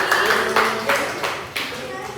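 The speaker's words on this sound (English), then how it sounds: "let's give them a round of applause" A classroom audience claps for student presenters in a few loud, rhythmic bursts spaced evenly apart, close and uneven in texture, with a voice faintly present underneath.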